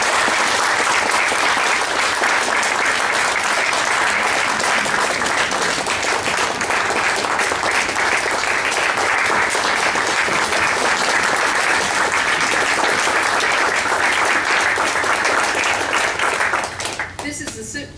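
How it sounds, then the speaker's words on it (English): A long, sustained round of applause from attendees at a Lexington County Republican Party meeting, loud and steady throughout before tapering off abruptly at the end. "Let's give a round of applause."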